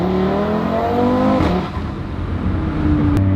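Tuned Audi RS3 8Y accelerating hard through its gears, a loud, close engine note climbing in pitch, then a quick shift that drops the revs before it pulls again.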